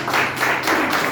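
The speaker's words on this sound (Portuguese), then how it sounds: "as palmas para o Senhor." A church congregation claps together in a brief, dense burst of many hands, loud and close, with no talking over it.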